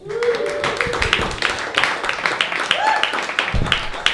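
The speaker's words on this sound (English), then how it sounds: "Give your hands a round of applause for Alco." Comedy club crowd at an open mic stand-up night applauding a comedian coming to the stage: dense, loud clapping with cheering voices and whoops rising over it throughout.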